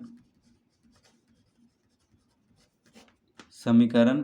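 A pen or chalk writes out an equation during a maths lesson, faint scratchy strokes coming in short bursts before a teacher starts speaking near the end.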